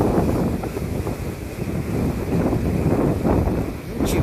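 Strong wind buffets the microphone on a boat while fishing at sea in the cold, with rough waves, giving a loud rumbling gusty roar with swelling surges throughout.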